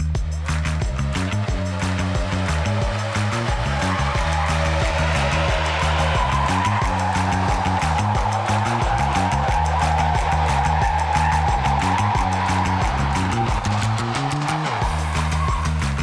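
A Bolt Energy golf cart with a Navitas 5 kW motor, 600 amp controller and 73.6 volt battery strains to pull 20,000 pounds down a road, its electric motor whining steadily over a loud, low rumble for the whole stretch.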